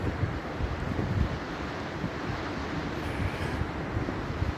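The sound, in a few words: sea waves and wind at Bournemouth beach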